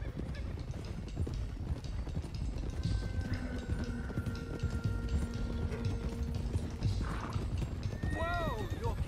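Horses trot along in Red Dead Redemption 2, steady clip-clop hoofbeats with occasional whinnies and a snort near the end, under continuous talk and game ambience.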